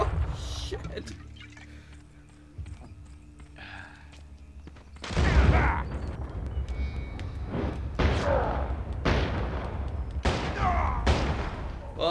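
Heavy booming gunfire and cannon blasts in the video game Gun, a run of loud broad bursts repeating every second or two under occasional talk.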